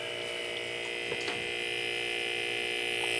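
An air compressor runs with a steady, even electrical hum and drone throughout, unchanging and fairly quiet, with a couple of faint brief knocks from contact with the machine.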